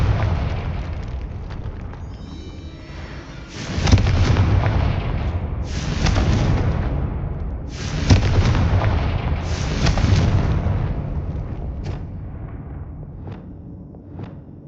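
Confringo explosion spells in the video game Hogwarts Legacy go off as four loud, booming blasts roughly two seconds apart, each rumbling and decaying before the next.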